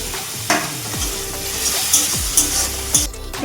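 Spices fry in a pan while being stirred, a steady sizzle broken by several sharp scraping strokes of a spoon, close and loud with no voices.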